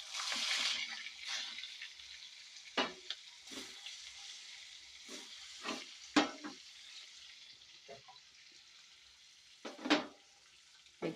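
Eggs frying in turmeric-tinted oil, a faint continuous sizzle with scattered soft taps and scrapes from a spoon in the pan, fairly quiet and without talk.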